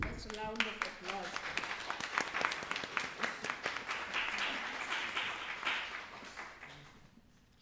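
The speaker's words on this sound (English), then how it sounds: "That's a round of applause." An audience at a talk on art and activism in Bangladesh gives a round of applause, a sustained patter of clapping that tapers off near the end, with brief voices at the start and close.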